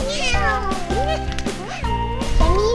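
A cat outside a house front door gives a series of close, loud, plaintive meows with rising and falling pitch, several calls in a row.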